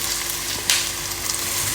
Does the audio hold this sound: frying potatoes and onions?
yes